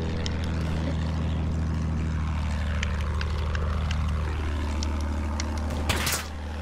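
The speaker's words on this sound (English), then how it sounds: "I'm in a plane, guys. I'm in a plane." Propeller airplane engine droning steadily in Battlefield 1, a continuous loud hum with a slowly shifting pitch as the World War I–era plane flies and climbs, with a brief rushing burst near the end and no talk.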